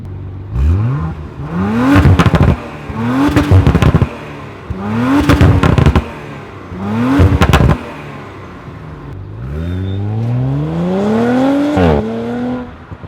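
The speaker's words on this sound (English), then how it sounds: "Nice deep growl V6" A 2019 Audi RS5 Coupe V6 revs hard in four rising bursts with crackling pops and bangs on each lift-off, then a longer sweep up through the gears, loud and close with a deep growl.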